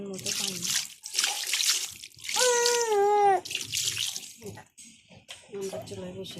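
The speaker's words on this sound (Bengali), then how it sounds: "এবার আমরা দিয়ে দেবো পরিমাণ মতো পানি।" Water poured into a pot of fish curry, splashing and trickling in short bursts close by while a person talks over it.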